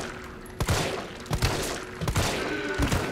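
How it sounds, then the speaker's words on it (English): Gunshots to the head in the Resident Evil 3 video game: about four sharp, loud shots spaced roughly evenly apart, each a hard crack with a brief tail, over a steady background hum. "Nice, three shots. Three clean shots to the dome."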